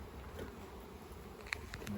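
Honey bees buzz softly and steadily at an open hive box while its frames are being handled, a faint continuous hum with one brief sharp tap near the end.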